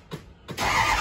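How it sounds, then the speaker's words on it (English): A Ford 6.0 Powerstroke diesel truck engine cranks briefly, then catches and roars into a loud, steady idle up close, with no talking. "Now the truck starts."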